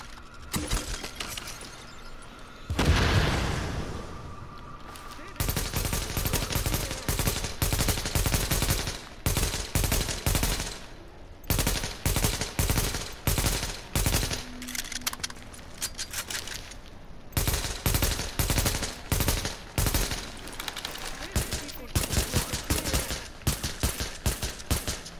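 Rapid bursts of gunfire, sharp single shots and clustered volleys, crack repeatedly in The Division on PS4 during a Dark Zone firefight, loud and close with short pauses between strings of shots.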